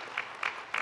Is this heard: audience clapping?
yes